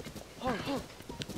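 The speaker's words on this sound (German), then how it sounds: "Das ist auch ein sehr schwaches Pferd" A horse in the Zelda: Tears of the Kingdom video game gives a short two-part whinny with a few hoof clops, close and brief, under a voice talking.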